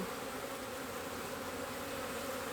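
Honey bees buzzing inside an Apimaye hive during a colony split: a dense, continuous, close swarm hum, steady and loud, with no voices.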